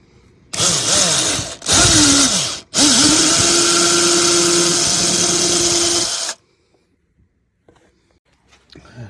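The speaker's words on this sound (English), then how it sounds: "I'm gonna start with a pilot hole." Power drill boring a pilot hole into the metal bracket of a 2010-2014 Suburban/Yukon interior door handle armrest: a loud, close whine in three bursts, short stops between, the last run held several seconds before falling silent.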